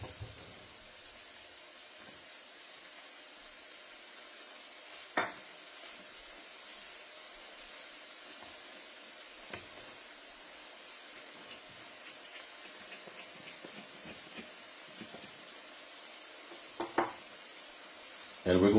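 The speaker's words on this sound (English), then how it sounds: "we're going to stir this until the flour changes in color" Flour being stirred into sizzling smothered beef short ribs in a pot, a soft continuous frying hiss broken by a few sharp scrapes and clinks of a spoon.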